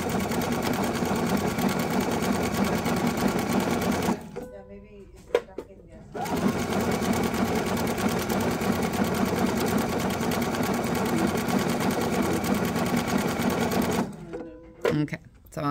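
A sewing machine runs in steady, rapid stitching bursts that stop briefly and then resume, the mechanical whir loud and close throughout.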